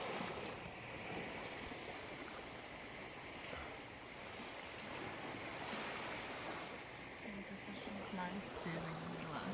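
Ocean waves washing up onto a beach at night, a continuous soft surf wash with gentle swells, fairly faint, with a voice briefly talking over it.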